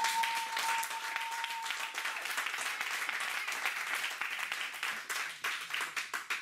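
Church congregation claps steadily, a moderate dense round of applause with some rhythmic unison bursts near the end, with a faint voice or tone briefly audible early on.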